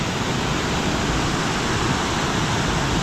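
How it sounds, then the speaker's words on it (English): A waterfall near a bridge gives a loud, unbroken rushing roar of falling water, dense and steady with no pauses or voices. "I don't know if you can even hear me over the rush of the water"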